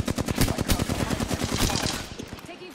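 Rapid bursts of automatic gunfire crackle in the battle-royale video game Apex Legends, a dense rattling string of shots that trails off after about two seconds.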